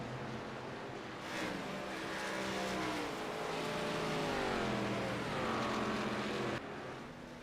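Race cars at an ARCA series race at Atlanta Motor Speedway, a continuous engine roar that swells as cars pass, rising and falling in pitch, with no talk over it.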